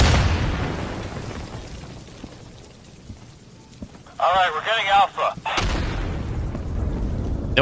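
Gunfire and grenade blasts in the shooter game Insurgency, a rumbling barrage of booms and bursts that thins midway, followed by a loud, rapidly pulsing burst and a renewed roar of combat.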